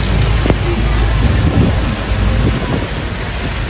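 Heavy rain pours in a dense, loud wash while low thunder rumbles underneath on Koh Larn island near Pattaya; no one speaks.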